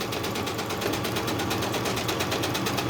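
A sewing machine stitching a crazy crumb quilt block runs in a steady, rapid mechanical chatter, loud and close throughout with no talking.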